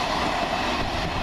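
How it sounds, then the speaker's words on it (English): A 12-coach passenger train runs past close by, a loud steady rumble with rolling wheel noise throughout. "why is this train coming up here?"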